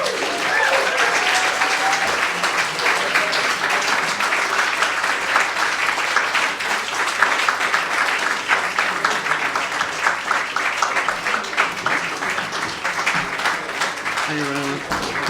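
An audience at an album launch gives the performers a long, steady round of applause that lasts about fifteen seconds, with some cheering and voices mixed into the clapping.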